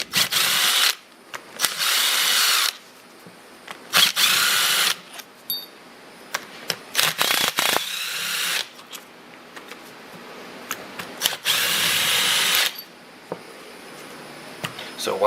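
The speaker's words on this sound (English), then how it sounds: "I'm going to be taking my wire brush and just kind of cleaning these up a little bit" Drill-driven wire brush scrubbing brake calipers removed from an MKIV Supra twin turbo, in repeated loud whirring bursts of a second or two with short pauses between them.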